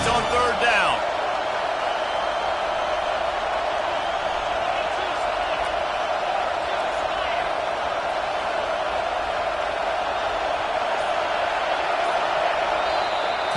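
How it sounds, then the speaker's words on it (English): Simulated stadium crowd in NCAA 25 roaring on third down, a dense, sustained wall of noise that holds steady and loud throughout with faint whoops mixed in. "Decibels rising as the crowd gets behind this defense on 3rd down"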